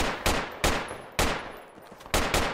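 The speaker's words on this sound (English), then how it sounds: "Oh, where's all this hostile gunfire at?" Hostile gunfire in the military shooter game Project Reality: four loud, sharp shots ring out at irregular intervals, each with a long decaying echo, over a faint background rumble.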